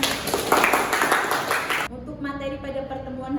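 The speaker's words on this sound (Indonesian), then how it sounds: "Kasih tepuk tangan untuk Rina." Classroom applause for a student in a lecture, dense clapping filling the first two seconds, then cutting off as a teacher's voice continues.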